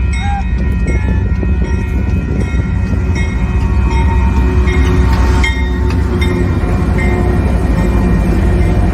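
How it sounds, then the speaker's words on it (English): A train rumbles past at close range, loud and steady, with a deep mechanical roar and ringing rail tones that persist throughout. "that train is always out there"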